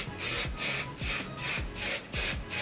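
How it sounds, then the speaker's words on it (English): Chi Shine Infusion hair spray is spritzed onto hair in a quick series of about six short hissing bursts, close and fairly loud, with no talking over them. "I'm going to spray it down onto my hair"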